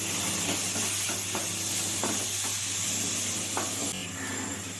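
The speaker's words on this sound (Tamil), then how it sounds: "உப்பு சேர்த்து நல்லா இதை வதக்கி விட்டுக்கலாம்" Vegetables sauté with salt in a pan for rava upma, a constant dense sizzle with periodic stirring scrapes, steady and close throughout.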